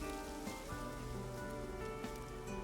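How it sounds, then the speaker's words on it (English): Steady rain in the Love and Deepspace video game patters continuously over a soft tonal background, even and unbroken throughout, with no voices. "Keep out of the rain."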